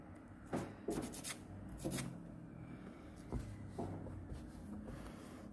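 A hand file rasps over a gel nail extension built on a paper form, giving soft scratchy strokes in a few short bursts close up, with no talking.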